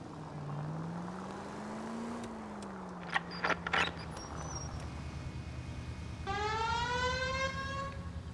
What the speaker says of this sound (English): Oh, I got a siren.